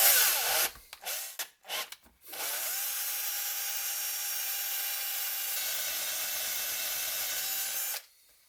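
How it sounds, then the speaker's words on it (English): A few short knocks and scrapes, then a power drill with a 12mm bit whirs steadily for several seconds, making a hole in a Jaguar XJ6 seat, before stopping abruptly. "I have my 12mm drill. I'll try and make a hole right there."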